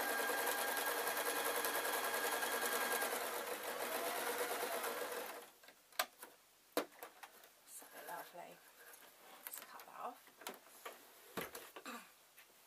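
A sewing machine stitches a pompom cushion in a steady, fast whirring run for about five seconds, then stops, leaving soft handling clicks, taps and rustles of fabric.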